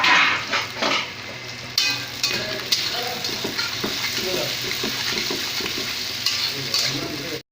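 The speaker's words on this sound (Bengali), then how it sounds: "পেঁয়াজগুলো একসাথে এবার ফ্রাই করে নেব।" Onions and green chillies fry and get stirred in a pan, with a steady sizzle under repeated scraping and clattering strokes of a spatula, fairly close and with no talking.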